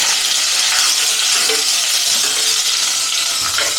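Chopped onion sautéing in a pan as a loud, steady, close sizzle with occasional faint clinks of a utensil.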